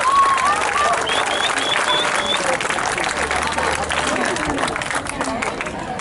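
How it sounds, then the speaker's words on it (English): Sustained audience applause at a Houston cricket league kick-off ceremony, a dense steady wash of many hands clapping with crowd voices and a few whistles mixed in, loud and continuous throughout. "I would request you all to give a big round of applause"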